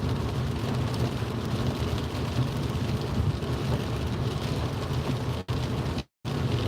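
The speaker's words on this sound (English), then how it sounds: "God grief, mate, it's raining." Steady heavy rain patters on a car roof during a night drive from Wigan, a constant dense hiss with a brief break near the end.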